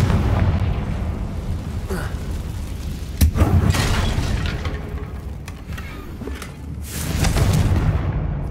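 Confringo spell blasts in Hogwarts Legacy: several booming explosions, one sharp loud crack in the middle and heavier rumbling bursts near the start and end, over continuous game ambience.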